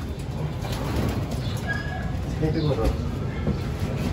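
Pigeons in a loft coo softly and steadily over a dense background of birds, with a person talking throughout.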